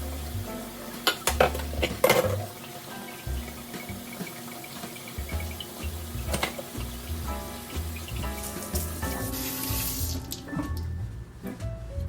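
Tap water runs into a kitchen sink while pots and dishes are washed up mid-cooking, with clinks and clatters of crockery and utensils over the steady flow and a final splashing burst.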